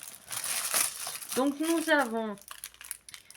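A plastic bag rustles and crinkles briefly, close by, while a person speaks over it.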